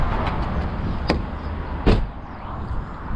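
An old 1991 one-litre petrol car with a faulty door in an abandoned scrapyard, its door clunking open or shut twice, with a louder thud near the end, up close and with no talking.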